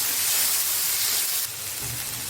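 Chopped tomatoes and onions fry in a hot pan for butter chicken, giving a loud, steady sizzle and hiss that drops slightly in level partway through, with no voices.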